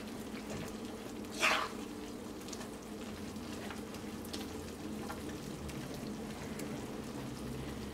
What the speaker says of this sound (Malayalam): ഈ വാളമ്പുളിയുടെ വെള്ളം ഇനി അത് കിടന്നിട്ട് നന്നായിട്ട് തിളച്ചിട്ടുണ്ട്